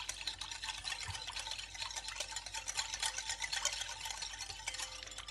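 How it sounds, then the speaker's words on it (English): Steady scraping and stirring as two tablespoons of sugar are mixed into bread dough ingredients for garlic mozzarella bread, a continuous close, moderately quiet swishing with no talk. "I'm going to put the 2 tablespoons of sugar and mix them together."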